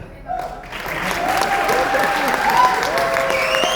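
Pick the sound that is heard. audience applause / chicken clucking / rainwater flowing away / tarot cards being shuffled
audience applause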